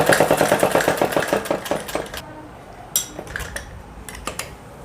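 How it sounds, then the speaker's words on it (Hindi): A sewing machine stitches a girl's suit in a rapid, rhythmic run of needle strokes for about two seconds, then gives a few short bursts. It is close and fairly loud, with no talking. "तो मैं यहाँ पर सिलाई लगा दूँगी फिटिंग पर।"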